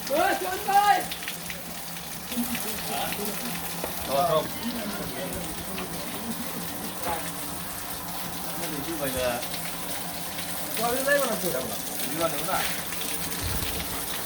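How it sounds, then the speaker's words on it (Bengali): Continuous rush of water overflowing from a full water tank, spilling and splashing down, steady throughout, while several people talk loudly over it. "আমাদের টাঙ্কিটা পুরো হয়ে গেছে পানি পড়ছে এখন"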